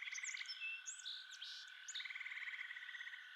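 Swamp ambience with birds chirping and insects calling: steady trilling pulses under repeated sharp, high chirps and short whistles, all thin and fairly faint, with no low rumble beneath.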